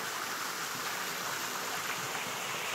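Alcohol sloshes around inside a sealed bottle, making a continuous, close, watery swishing with no talking over it.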